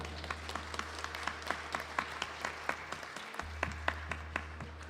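A congregation at a Sunday service applauds for a 75th birthday, with steady clapping from many hands and distinct individual claps standing out over a low electrical hum.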